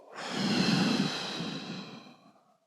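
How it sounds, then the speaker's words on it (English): A single slow, deep exhale during a guided breathing exercise, a long soft breathy rush that swells and then fades out, close and alone. "Now let's take an inhale in. And let it go."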